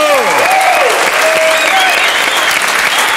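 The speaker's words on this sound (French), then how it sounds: "On applaudit Philippe Guérin" Loud, dense studio audience applause on a French television game show, steady and sustained for several seconds, with a few whistles or cheers riding on top.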